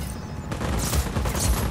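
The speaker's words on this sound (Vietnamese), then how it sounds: "Tôi bắn gắt quá" Gunfire in Just Cause 4, a dense burst of rapid shots that starts suddenly and keeps going as a loud, continuous rattle with booming low thumps.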